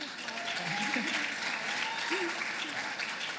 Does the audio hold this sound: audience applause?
yes